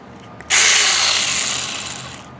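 A battery-powered handheld mini chainsaw starts abruptly and runs steadily with a loud, high buzzing whine for a couple of seconds, close by.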